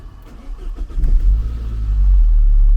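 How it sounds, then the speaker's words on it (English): A Saab 93 engine cranks a few times, catches, and settles into a loud, steady low idle close by. "Yeah, it started."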